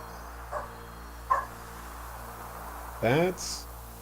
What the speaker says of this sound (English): And the dog's outside barking.